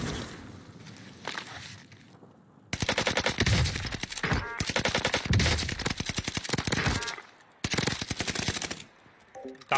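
Dense automatic gunfire bursts from a battle-royale video game, rapid rattling shots lasting several seconds with short breaks, close and loud over game ambience.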